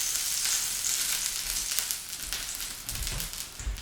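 Seitan sizzling in chili oil in a hot pan, a loud, steady crackling fry with bursts of spattering and a few low bumps near the end, no voices.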